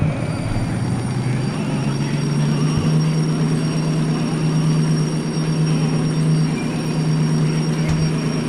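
Steady locomotive drone in the Derail Valley train simulator, a continuous engine rumble with a sustained low tone and a faint high whine, loud and unbroken throughout with no talk.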